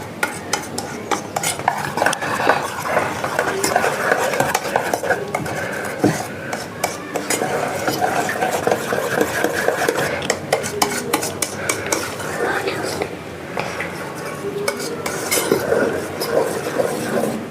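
Honey cake batter being stirred in a bowl, with continuous scraping and sloshing strokes in an irregular rhythm. The sound is close and moderately loud, with a few clinks of utensil against the dish and no speech.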